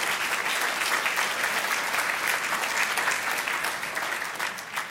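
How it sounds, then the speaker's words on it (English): An audience at a college state-of-the-college address breaks into sustained applause, a dense, even wash of many hands clapping that holds steady and tapers slightly toward the end. "Let's give them a big round of applause."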